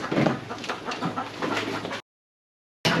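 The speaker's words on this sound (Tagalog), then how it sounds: "Nangaagaw ng pagkain yung manok." A chicken clucks close by in short bursts, then the sound cuts out abruptly before resuming briefly.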